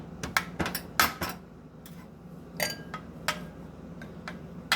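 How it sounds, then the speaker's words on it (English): Whipped cherry coffee is whisked in a container, producing irregular light clinks and taps of metal against the sides, close and sparse, with quieter gaps between clusters of strokes. "You're going to want to go with a whisk and get it all scattered"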